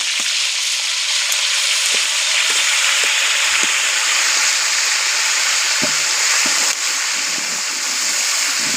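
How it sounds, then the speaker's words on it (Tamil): Green chillies fry in a pan for a village-style mixed rice dish, giving a loud, steady sizzle throughout with occasional soft pops and stirring knocks and no talking. "நல்லா வதங்கிக்கிறேன் பச்சை மிளகா பச்சை மிளகா நல்லா வதங்கிக்கிறேன்"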